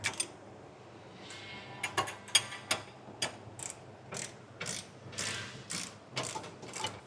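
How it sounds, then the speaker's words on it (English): A socket ratchet and wrench tighten 24 mm bolts while a B&W Companion sliding 5th wheel hitch is installed on a 2024 Chevrolet truck, giving irregular bursts of close, crisp ratcheting clicks separated by short pauses. "You'll need a socket on one side and a wrench on the other side."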